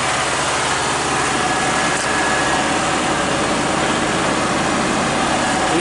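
The engine of a Ford 550 backhoe runs steadily at 2,000 RPM, a loud and constant drone with no change in pitch or rhythm throughout.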